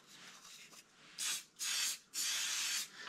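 An aerosol can sprays accelerator onto wood turned on a Jet lathe in three short hissing bursts, each about half a second long, close and distinct against a quiet background.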